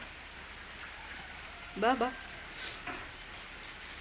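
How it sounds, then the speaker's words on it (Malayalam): Steady rain falls outdoors as a constant soft hiss, with a person briefly calling out to a pet partway through. "മഴ പെയ്യുന്നു"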